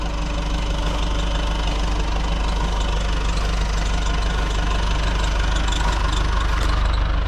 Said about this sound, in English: now with any diesel, you want to let it idle for a minute just to cool it back down, the turbo cool down